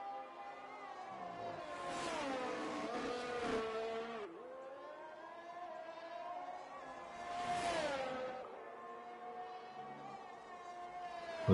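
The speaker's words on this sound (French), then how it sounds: "Bruno qui va arriver dans le troisième secteur avec sa McLaren" A McLaren race car in a racing video game on the Red Bull Ring Austrian Grand Prix circuit, its engine note rising and falling through gear changes at moderate distance, fairly quiet with sweeping pitch climbs.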